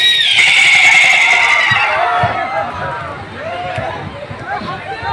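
A person imitates a horse neighing at a college function in Kharupetia, giving a loud, drawn-out whinny that fades into crowd noise and background chatter.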